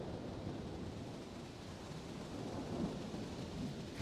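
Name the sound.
military planes flying overhead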